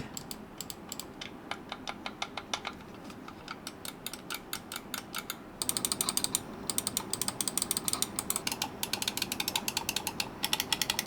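The notched scroll wheel of a RAWM SA-ML01 gaming mouse clicks through rapid runs of crisp, close ticks, first in lighter bursts and then in a louder, denser stretch of stepped clicking.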